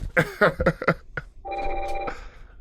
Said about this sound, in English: Another phone call for you.